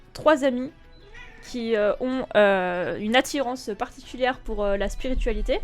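A cat meows loudly and repeatedly up close to a microphone, with drawn-out, wavering calls. A person speaks French between and over the cries, and faint low bumps near the end suggest the cat handling the mic.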